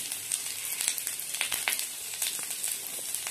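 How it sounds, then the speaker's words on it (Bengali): Ginger and two green chillies fry in oil in a pan with a steady close hiss, and small pops and crackles rise above it. No one speaks. "হালকা লাল করে আদাটা ভেজে নেব।"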